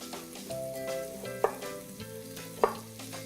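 Bacon frying in a pan gives a steady, soft sizzle under tonal background music, broken by two sharp utensil clicks.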